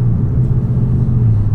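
A Dodge Demon engine held at about quarter throttle, giving a loud, steady, close low rumble that stays even throughout the short stretch, with no speech.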